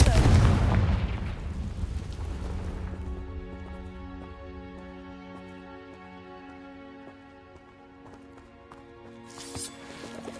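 A Confringo blasting spell bursts loudly in the Hogwarts Legacy video game, a broad explosive blast that decays over about three seconds into lingering tonal game music and effects, with a second bright burst near the end.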